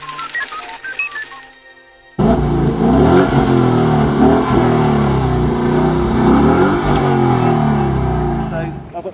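A 500-horsepower Ford Mustang GT engine revs at the Silverstone circuit. After a couple of seconds of electronic beeps, the loud close engine roars in and rises and falls in pitch for several seconds.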